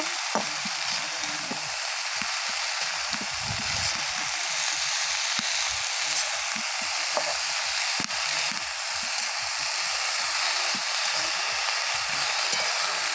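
Drumstick flowers frying in a wok while a spatula stirs them, a steady loud sizzle throughout with scattered scraping clinks, no talking.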